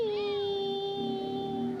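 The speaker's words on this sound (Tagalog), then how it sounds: "Kasama din namin ang aming mga pusa dito sa kubo." A single drawn-out cat meow, clear and close, with a falling tone.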